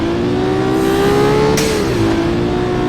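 A Supra-like car engine in BeamNG.Drive holds a loud, sustained high rev with a slight pitch rise and dip, close and continuous with a faint whine, no talk over it.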